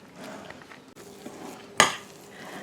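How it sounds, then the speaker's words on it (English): Blackberry crumble ingredients being stirred together in a bowl: soft scraping and rustling for a couple of seconds, then one sharp, bright clink of utensil against the bowl, close and without talk. "So let's just mix all this up until everything is mixed."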